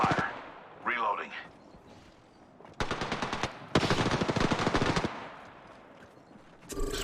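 Rapid automatic gunfire in the Apex Legends video game, several sharp bursts one after another at close range, with brief gaps between them and voice lines around the shooting.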